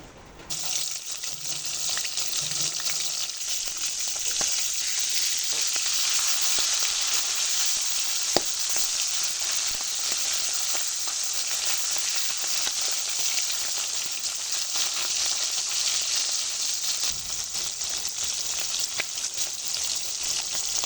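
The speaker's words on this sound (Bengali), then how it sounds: "ইলিশ মাছের মাথাগুলো আমি ভেজে নেব।" Hilsa fish heads coated in salt and turmeric fry in hot oil with a dense, even sizzle that holds steady and close for about twenty seconds.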